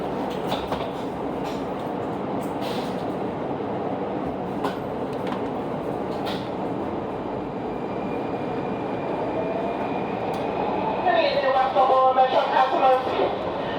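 A WMATA 6000-series Alstom Yellow Line metro train rumbles along the track with a steady, loud interior roar and occasional clicks. Near the end, a tonal whine rises as the train changes speed.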